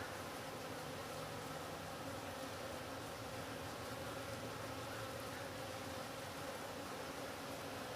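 A hive of very active honeybees on a quarter-acre homestead, heard as a steady, even buzzing drone throughout with no talk, fairly quiet and close.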